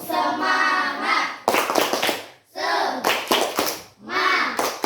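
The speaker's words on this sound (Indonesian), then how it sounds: "mari kita semua bertepuk semangat" A school class does a rhythmic spirit clap, with bursts of quick, sharp group handclaps alternating with children's voices chanting together in a repeating pattern.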